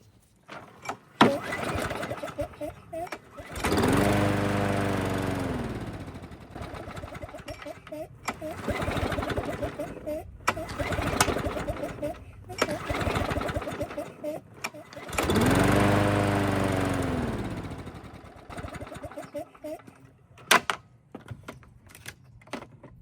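A Yard Machines lawn mower with a stubborn carburetor fault is cranked repeatedly, its engine catching and revving in two sustained bursts between sputtering attempts, with someone talking throughout.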